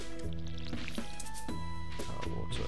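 A copper watering can in Stardew Valley gives repeated squishy, drippy liquid pours in a regular rhythm over steady game music.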